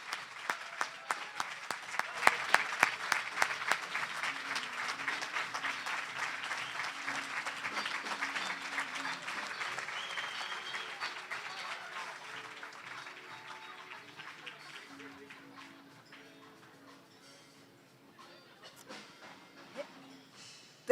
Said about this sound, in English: Let's give Honorable Lepper Ramos Monteni the resounding applause she rightly deserves